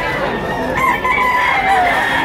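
A rooster crows at a Lipa City poultry auction market, a long rising and falling call held over roughly two seconds, close and loud above a steady crowd murmur.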